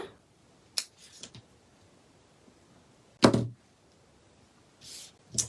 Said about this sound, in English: Now take your scissors and trim.